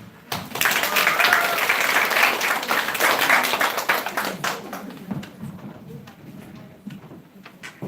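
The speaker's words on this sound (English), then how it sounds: "Let's give them a big applause." School audience applauding, a dense burst of many hands clapping that builds quickly, holds for several seconds, then thins into scattered claps indoors.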